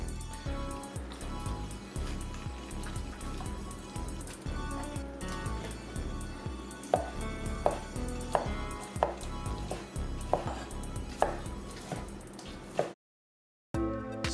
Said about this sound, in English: then I'm gonna slice off the white meat.